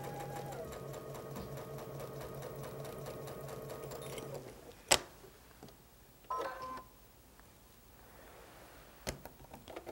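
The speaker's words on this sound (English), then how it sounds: "I'm going to try to sew straight." Sewing machine stitching the binding seam of a Double Wedding Ring quilt, a steady fast mechanical whir for about four seconds before stopping, followed by faint handling noises and a few sharp clicks.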